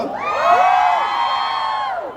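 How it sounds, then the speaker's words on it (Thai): An audience cheers for Boss during a staring contest game at a hair styler launch event, a loud, sustained wash of shouting and whooping voices lasting a couple of seconds. "ขอเสียงเชียร์บอสหนึ่งทีหน่อย"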